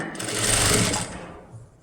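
A sewing machine runs in one loud, steady burst while stitching a child's crop top, then slows and trails off near the end.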